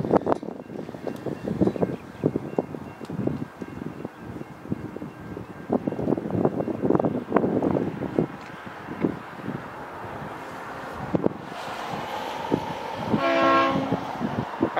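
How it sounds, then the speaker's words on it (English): V/Line N class diesel locomotive at Geelong station, a rumbling rail passage with clatter and wind buffeting the microphone, then a horn-like tonal blast near the end. "So this N-Class did last down Albury standard gauge"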